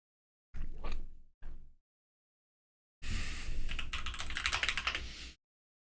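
A computer keyboard is typed on close up, with two short bursts of keystrokes, a pause, then a longer run of rapid clicking, and no speech.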